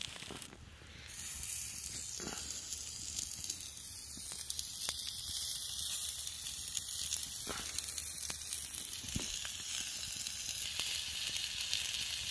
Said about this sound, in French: Ça cuit vite, le gibier.